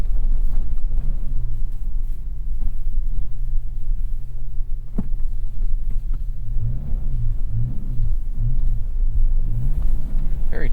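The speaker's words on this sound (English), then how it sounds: "Very touchy accelerator here in sand mode." A 2025 Toyota 4Runner TRD Pro driving through sand in sand mode in Afton Canyon, its engine droning steadily up close, then rising and falling in several rev surges as the throttle is blipped.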